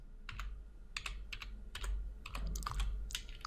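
Fingers type a git command on a computer keyboard in quick irregular bursts of clicking keystrokes, close and clear against a quiet room with a low hum.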